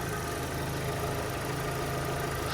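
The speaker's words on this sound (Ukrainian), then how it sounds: "Двигун працює чітко" An Opel Zafira 1.8 with automatic transmission idles, a steady, even engine hum and rumble heard close and continuous throughout with no voices.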